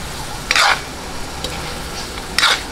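Sweet potato and shrimp stir-fry in a pan with a low background sizzle, broken by two short bursts of scraping and tossing as the food is stirred.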